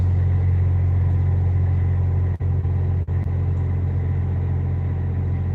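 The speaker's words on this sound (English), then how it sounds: "man, that's a loud truck." Loud truck passing nearby, a heavy low engine rumble holding steady with two brief sharp dropouts.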